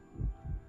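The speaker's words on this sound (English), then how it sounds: "That heartbeat sound is so effective in this part." Two slow, deep thumps of a heartbeat effect in The Last of Us Remastered, muffled and close, sounding alone over a faint hum.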